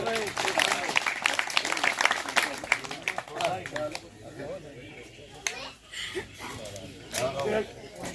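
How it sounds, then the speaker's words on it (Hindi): Crowd applause at a farmers' protest rally against cement factories, clapping that swells and fades while an announcer keeps speaking over a public address system. "एक बार जोरदार तालियों से सर का अभिवादन"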